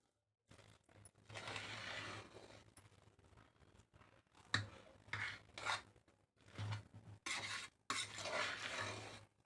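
Cooked pumpkin rice in a pressure cooker is stirred in bursts of scraping and rubbing against the pot, pausing between strokes, faint and close with no talking.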